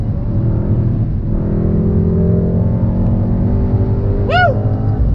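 Mercedes-AMG GT 63 S 4-Door Coupe engine pulling hard on a track, a loud steady drone with rising harmonics and a brief high whine near the end, close and continuous.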